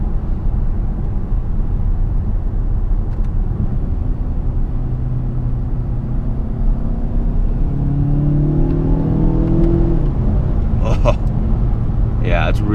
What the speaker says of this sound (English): first acceleration. Here we go. It definitely pulls really strong.